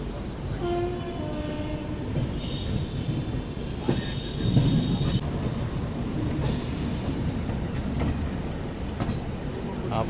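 Samata SF Express train on the Visakhapatnam–Hazrat Nizamuddin route running after departing Muniguda: a steady loud rumble of carriages with wheel clatter, a high squeal in places and a brief burst of hiss, heard from inside the train.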